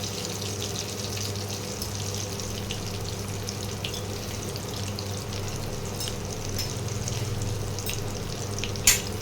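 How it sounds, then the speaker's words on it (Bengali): Dhoka lentil cakes shallow-frying in mustard oil, an even, steady bubbling sizzle heard up close with a low background hum and a single sharp click near the end. "প্রতিটা ধোকাকে এইভাবে ভেজে নিতে হবে একটু লাল লাল করে"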